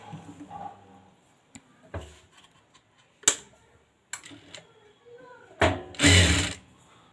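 Sewing machine stitching a folded puff sleeve hem on a blouse, with scattered ticks and clicks, then a loud close burst of running stitches near the end.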